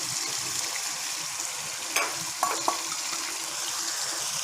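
Ground masala paste frying in a pan for mutton curry gives a steady, close sizzle, with a few brief clinks of stirring near the middle.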